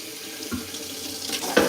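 Tap water running into a sink while Cornish hens are washed, a steady close splashing stream that shifts as the hens pass under it, with a brighter splash near the end.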